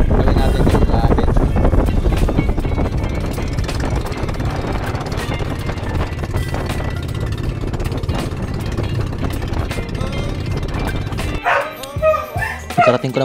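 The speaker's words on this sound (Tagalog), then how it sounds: "ayan yung aso namin, tuwang-tuwa na nakauwi ako dito sa bahay namin." A family dog barks excitedly at home, welcoming its owner back, with repeated yips sounding through steady low background noise and a louder, brighter burst near the end.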